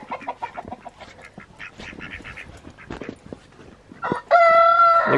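A rooster crows loudly near the end, a sustained harsh call following a stretch of scattered quacking and clucking from nearby loose ducks and birds on a homestead on a snowy day.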